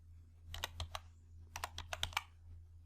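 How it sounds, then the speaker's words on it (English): Keys tapped on a computer keyboard while entering an Excel formula, two short bursts of quick, crisp clicks separated by a pause, close and quiet, with no talking. "Type false logical value in this cell."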